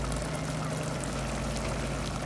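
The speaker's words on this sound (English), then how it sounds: "So you're going to watch me top it up with a bit of water." Water is poured from above into a pot of rice, a steady, even splashing stream that holds at moderate loudness throughout with no voices.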